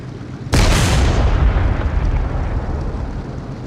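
A tank blows up in a World War II tank combat game featuring a Sd.Kfz.181 Tiger against KV-1 tanks: one sudden, loud, close blast that bursts out and then rumbles down slowly for several seconds, with no talk.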